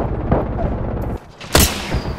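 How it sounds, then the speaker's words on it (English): Bursts of gunfire in the video game Apex Legends, a steady rattle of shots that drops away briefly before a sharp loud blast and renewed firing. "I can hear gunfire everywhere"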